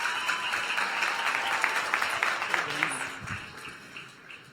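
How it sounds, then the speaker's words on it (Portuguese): A church congregation applauds a returning member in a steady wash of clapping that holds for several seconds, then thins and fades out. "Dá uma salvinha de palmas"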